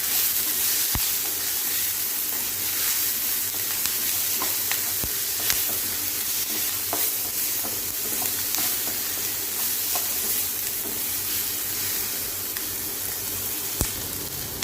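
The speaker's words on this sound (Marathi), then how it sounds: "परतल्यानंतर आता सर्व मिक्स करायचे" Cashew masala ingredients being stirred and mixed in a pan after sautéing, a steady close sizzle and frying hiss with scraping spoon strokes throughout, no voices.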